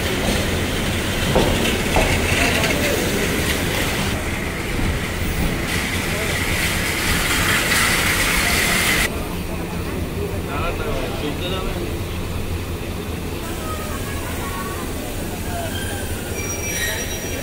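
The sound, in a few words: train pulling into station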